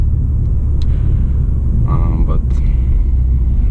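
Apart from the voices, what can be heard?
2020 BMW 430i xDrive driving on road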